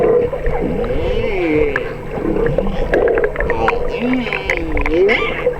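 Humpback whales in a competitive pod send out rising and falling moans and groans, with a steady stream of calls overlapping each other underwater over a constant hum.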